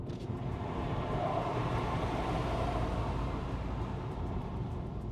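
Road and wind noise fill the cabin of a Hyundai Ioniq 5 driving beside a truck, a steady low rumble and broadband rush heard from inside, muffled and continuous with no talking.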